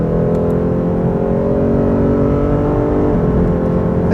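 A Lexus RC F sports car's exhaust roars loudly and close by, holding a sustained rev that climbs slightly in pitch, with no voices.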